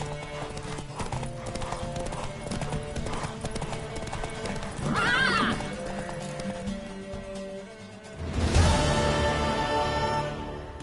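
Horse hooves clip-clop at a steady gallop through a busy game soundscape, with a brief whinny midway and a louder burst of galloping near the end.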